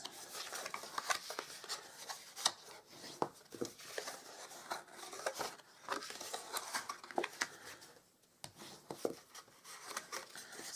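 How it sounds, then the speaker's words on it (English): A tool rubbing and scraping along score lines on a small self-stamped paper gift box, quiet close strokes repeating in short irregular bursts with a brief pause near the end. "So we're going to burnish our score lines"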